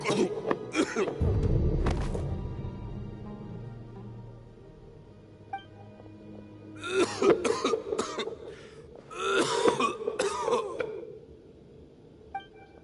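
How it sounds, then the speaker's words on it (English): A video game character, a man, coughs hard in several bursts, with a rough groan and quieter pauses between the fits, set against a faint background tone. "Why is he coughing so much?"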